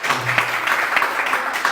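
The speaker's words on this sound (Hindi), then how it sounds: "आप ताली बजाओ।" An audience claps steadily, a dense, even patter of many hands close by that keeps up for the whole short stretch without talk over it.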